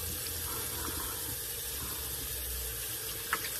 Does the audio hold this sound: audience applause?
no